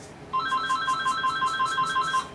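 An incoming call rings on a phone nearby, a steady repeating electronic ringtone of short bright pulses that runs without a break and with no voices over it.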